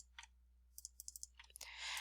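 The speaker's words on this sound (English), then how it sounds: "I'm going to show you typing it in the calculator." Fingers tapping calculator keys while entering an equation, a faint, close series of sharp plastic clicks in irregular quick bursts, ending with a brief rustle.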